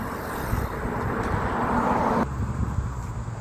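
A car pulls out on a busy riverside street, its engine and tyre noise merging into a steady wash of city traffic that cuts off abruptly near the end.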